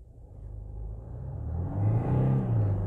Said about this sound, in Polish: Wcisnąłem gaz do dechy.